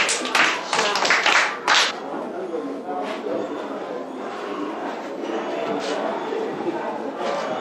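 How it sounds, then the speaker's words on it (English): Classroom pupils clap for a boy in a Nigerian school scene: a short burst of loud clapping at the start that fades into murmuring voices and room noise. "Clap for him."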